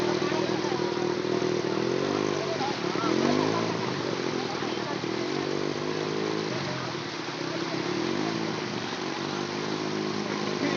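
A motorcycle engine runs continuously while being ridden through flood water, a buzzing drone that waxes and wanes with throttle, heard steady and fairly close throughout.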